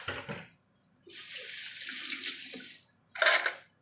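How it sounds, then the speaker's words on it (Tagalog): Cooking water is poured out of a pot of seafood in a steady splashing stream lasting a couple of seconds, followed by a short, sharper burst of water. "Tapon natin yung tubig."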